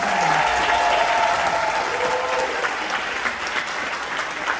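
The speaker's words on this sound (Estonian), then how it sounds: "palun, kallis publik, suur aplaus meie kallile Evelile" Audience applause at a live dance show, a dense wash of clapping that fills the hall and holds steady throughout, with a faint voice briefly audible near the start.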